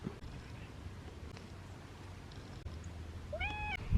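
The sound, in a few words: cat meowing in the garden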